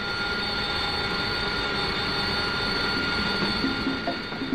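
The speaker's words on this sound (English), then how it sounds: "By rotating the nozzles forward a vertical, the aircraft can be taxied in reverse under its own power." An AV-8A Harrier jump jet taxiing in reverse under its own power on a ship's deck, its nozzles rotated forward, giving a loud, steady jet engine roar with a piercing high whine throughout.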